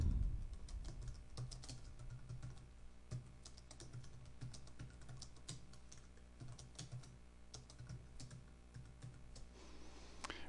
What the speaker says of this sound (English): simply typing it in